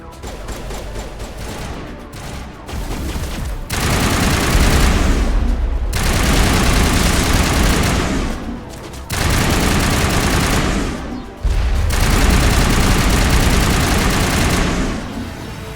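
Loud bursts of rapid gunfire from the video game Mass Effect Legendary Edition, coming in several long sustained volleys separated by brief pauses, with a low engine-like rumble beneath.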